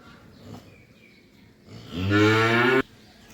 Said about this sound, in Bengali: তা এই হলো আজকের দুই নাম্বার বকনা বাছুর